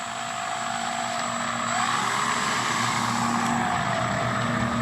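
A model airplane with yellow-tipped propellers taxis at half flaps in a light crosswind, its engine a steady, loud, close drone holding constant throughout with a slight swell partway through.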